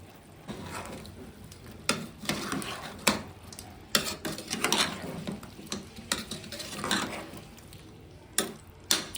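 Spoon scraping and clattering in a pan while tomato ginger paste is stirred into a bachelor-style chicken curry, with irregular close metallic knocks and scrapes over a faint sizzle.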